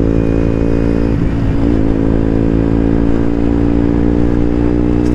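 A loud motorcycle engine labors at a steady low drone in cold weather around 5 or 6 degrees Celsius, its pitch wavering briefly as it strains, running continuously close by.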